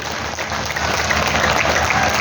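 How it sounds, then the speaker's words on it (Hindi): Audience at a public speech gives a sustained round of applause, steady dense clapping that swells slightly and continues throughout. "एक बार शानदार ताली अपने लिए बजाइए"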